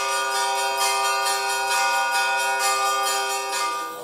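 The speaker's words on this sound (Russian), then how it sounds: "по традиции звучит звон колоколов" Church bells peal continuously at an Orthodox cathedral in Makhachkala for Christmas, several bells overlapping in a bright, rich clanging that stays loud throughout.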